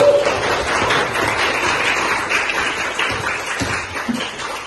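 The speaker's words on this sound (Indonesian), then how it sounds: "Ya, kasih tepuk tangan untuk penangkapnya." A group in an indoor teacher-training session claps together, a brisk continuous patter of hands at fairly close range that fades slightly toward the end.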